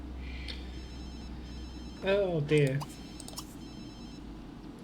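A telephone rings inside The Sims 3 game, a short bright electronic ring standing out briefly over steady background game ambience, with a voice speaking nearby.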